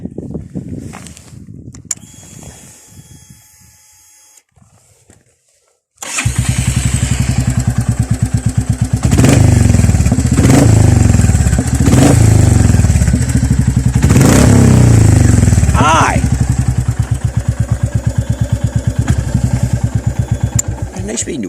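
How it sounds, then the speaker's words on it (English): A Royal Enfield Meteor Supernova 350 motorcycle with a pipe fitted: after a few seconds of quiet, the engine fires up loud and close, idling with a thumping beat and rising in several sharp revs. "Once you put the pipe on, you hear the wee engine going."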